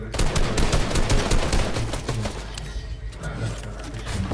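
Gunfire in a squad battle royale video game: dense, rapid automatic bursts and overlapping shots crackle loudly and almost without pause.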